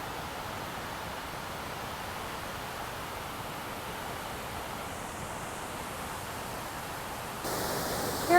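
Steady broadband roar of a large waterfall cascading below a dam, heard from a distance as a constant, even wash of falling water with no voices.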